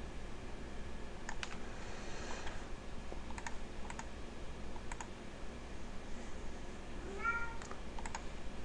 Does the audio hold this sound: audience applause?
no